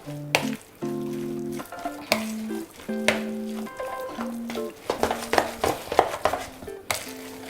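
Minced chicken being mixed by hand for cutlets, with wet, irregular squelching and stirring sounds, close and moderately loud, broken by short pauses and a few clinks against a bowl, under a musical background.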